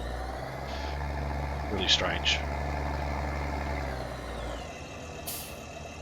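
A tractor engine drones steadily in the video game Farming Simulator 19, a low constant hum with brief hissing bursts, cutting off near the end while a person speaks over it.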